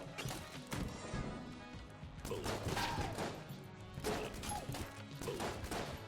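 Rapid burst-fire gunshots from a weapon in the roguelike shooter game Enter the Gungeon, loud clustered volleys repeating over busy game music and effects.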